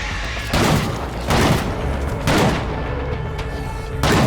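Gunshots fired in the video game State of Decay 2, four heavy booming blasts spaced roughly a second apart, each with a loud low thump and a lingering tail over a steady background hum.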